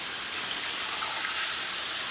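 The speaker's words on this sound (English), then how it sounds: "And start adding your water or your chicken stock in." Water or chicken stock poured into a pan of chicken for smothered chicken, a steady close rushing splash and hiss of liquid hitting the hot pan, continuous for about two seconds with no talk.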